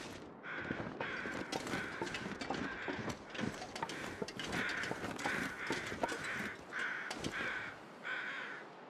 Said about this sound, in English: okay, those are just overhead crows.